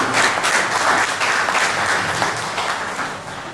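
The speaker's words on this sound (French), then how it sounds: "Et j'aimerais qu'on applaudisse pour cette événement." Dense, loud audience applause fills the hall at a fifth-anniversary celebration event, a steady wash of many hands clapping together that holds strong before easing slightly toward the end.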